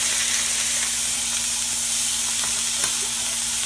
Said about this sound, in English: we're just locking some of this juice in is all we're doing. Searing it up.